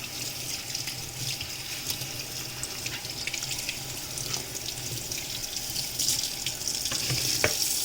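Tap water runs steadily into a kitchen sink while raw chicken is washed for Jamaican chicken with rice, a constant close splashing hiss with no talking.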